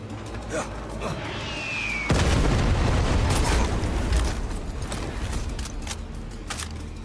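A heavy boom from a bomb explosion in Far Cry 6 erupts two seconds in, followed by a long rumbling roar and scattered crackles amid continuous game noise.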